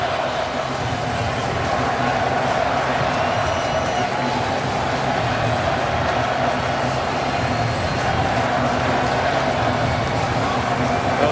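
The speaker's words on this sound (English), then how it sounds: "listen to that Cowboys chant as Murray gets another first down" A large stadium crowd at an NFL game between the Cowboys and the Titans roars and chants steadily for the Cowboys, a dense, unbroken wash of voices.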